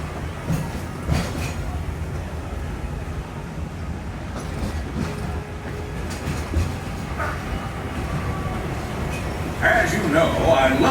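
Walt Disney World Railroad train rolling through Magic Kingdom past Tomorrowland, a steady low rumble and rail clatter heard from aboard, moderately loud, with a voice talking over the running train.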